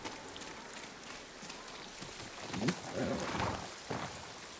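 Steady rain hisses across the scene in the video game Ghost of Tsushima, a broad, even wash of falling drops with a few brief louder spatters and no voices.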